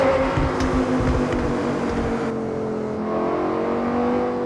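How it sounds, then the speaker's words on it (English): A Lamborghini Huracán with its V10 engine revs hard and close, a loud, dense, steady roar with layered harmonics that holds for several seconds and then settles slightly. "The V10 had been screaming behind Lamborghini drivers for more than 20 years"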